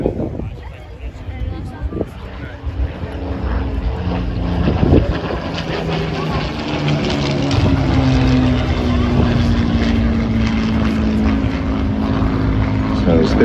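A Spitfire's piston engine drones as the aircraft flies past at an airshow in Ayr, Scotland, its steady roar building and holding with a rising-then-falling pitch, plus wind noise.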